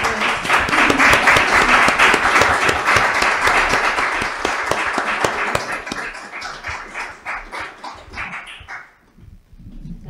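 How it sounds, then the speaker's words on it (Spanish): Audience applause at a live women's presentation event, a dense sustained burst of clapping that thins into scattered claps before fading near the end. "un aplauso para todos"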